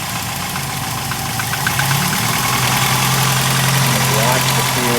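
A cold 1961 Sunbeam Alpine II engine idles steadily without choke, a continuous low mid-range rumble with slight knocking that swells a little after the first second and holds loud and close to the end.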